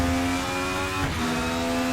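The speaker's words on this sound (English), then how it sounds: "you've got the flutter, which I love from the transmission as you change gear" A DTM Mercedes race car with a V6 engine in the RaceRoom racing game, a sustained buzzing engine note with a brief dip and transmission flutter around a gear change, loud and close with no talk.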